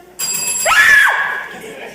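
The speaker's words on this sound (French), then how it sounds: "c'est la sonnette de la porte d'entrée." A front door doorbell rings once with a bright, sustained electronic tone that rises, holds, then fades out, close by and fairly loud.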